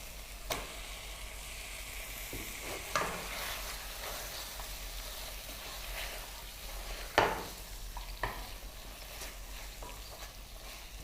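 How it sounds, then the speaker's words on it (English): Bite-sized mutton pieces sizzle and fry in oily gravy in a pressure cooker for a Diwali mutton curry, with a constant close hiss broken by several sharp spoon scrapes and stirs against the pot and no speech. "The gravy is giving out the oil, so let's add the mutton pieces."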